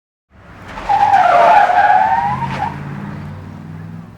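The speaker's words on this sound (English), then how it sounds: "With a mighty jerk, Captain Underpants flipped backward and the van pulled him along as it drove away" A van's tires screech in a long rising and falling skid, loud and close, then fade into the low rumble of its engine as it drives away. No one speaks.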